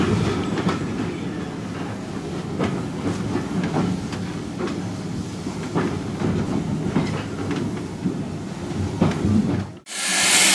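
A Severn Valley Railway train pulls into the platform at Kidderminster, heard from aboard as a steady rumbling roll with rhythmic clickety-clack wheel beats over rail joints, ending in an abrupt cut near the end.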